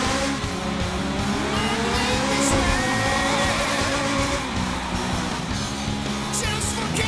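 Ferrari race car heard through a racing game, a steady engine drone with a tire squeal or skid partway through, continuous and fairly loud.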